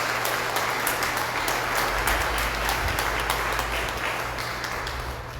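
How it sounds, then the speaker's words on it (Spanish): A church congregation claps loudly for the village of Buquén during a Divine Mercy Sunday Mass, a dense steady applause that fades slightly toward the end, with a low hum beneath. "Damos un fuerte aplauso a este querido pueblo"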